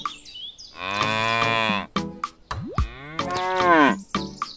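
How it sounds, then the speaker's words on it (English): Several cows in a herd moo loudly and close by in long, drawn-out calls that overlap and trade off, separated by brief pauses. "I really like this herd of cows."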